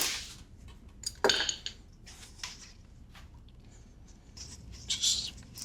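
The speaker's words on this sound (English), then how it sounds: "Just give that a stir." Cream infused with nutmeg is stirred in a pan on the stove, a utensil scraping and clinking against the metal in a few short, quiet bursts with soft liquid sounds in between.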